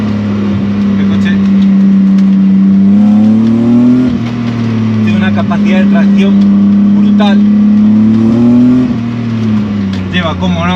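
Restored BMW E30 with a swapped M52B28 engine pulls hard on the road, its steady engine note climbing and settling through two surges while someone talks over it throughout.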